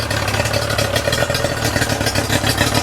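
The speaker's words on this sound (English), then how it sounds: "here I'm going to show you guys how she runs." Restored Yamaha outboard motor with a new impeller running steadily, a dense, even rattling drone with fast regular pulsing and hiss, loud and close, with no talking.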